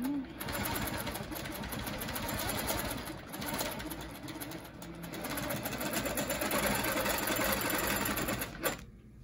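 A Handi Quilter sewing machine stitches a quilt along a leafy template, a steady rapid mechanical whir running almost without a break and cutting off near the end.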